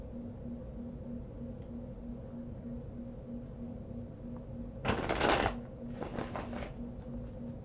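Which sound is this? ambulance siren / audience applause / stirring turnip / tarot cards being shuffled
tarot cards being shuffled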